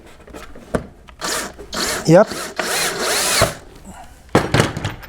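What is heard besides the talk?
cordless drill driving a screw into a wooden board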